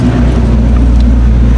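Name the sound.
Honda Wave 110i motorcycle revving with James aftermarket exhaust pipe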